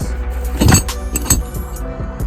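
The trunk of a 2018 Honda Accord Sport being opened, a close burst of jangling keys and a clunking latch followed by a few lighter knocks and rattles.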